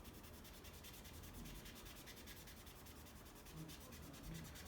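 A Magic Eraser scrubs an anime figure in quick, rhythmic back-and-forth rubbing strokes, close and fairly quiet, continuing steadily with no talk over it.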